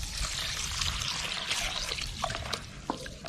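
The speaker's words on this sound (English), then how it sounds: "So I'm gonna wash the rice." Parboiled rice being washed with water outdoors for ackee and saltfish seasoned rice, a steady close pouring and trickling wash with a few sharper splashes and drips.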